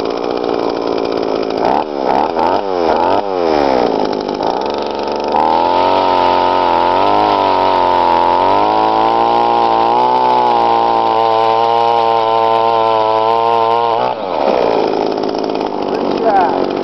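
A Mora ice auger, its blade freshly sharpened after being dull, drills through ice with a loud, continuous motor roar that rises and falls in pitch as it bites and runs. Brief talk mixes in at the start.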